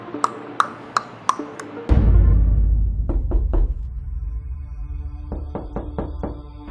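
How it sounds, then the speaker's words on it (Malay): Sharp knocks on a wooden front door, first four evenly spaced raps, then a heavy boom, later more knocks in quick clusters, set against a low rumbling atmospheric drone. "Tiba-tiba ada bunyi ketukan di pintu hadapan."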